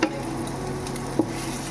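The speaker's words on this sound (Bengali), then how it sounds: "দুটো ডিম একসাথে করে অমলেট বানাচ্ছি" An omelette of two beaten eggs fries in a pan with a soft steady sizzle, broken by a couple of brief utensil clicks, close and without speech.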